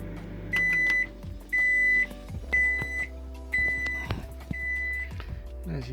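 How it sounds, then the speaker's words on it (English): Microwave oven inside a van, sounding a series of five evenly spaced electronic beeps over a low hum, with clicks and handling noise following. "Microwave is probably the most efficient use of power."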